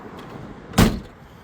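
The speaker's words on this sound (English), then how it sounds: "Doors sound nice and solid." A single solid thunk as the car door of a 1964 Ford Galaxie 500 shuts, close and loud against a quiet background.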